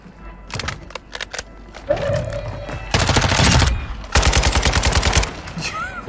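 Call of Duty Warzone gunfire: rapid automatic bursts and sharp shots in loud, clustered volleys, with brief pauses between them.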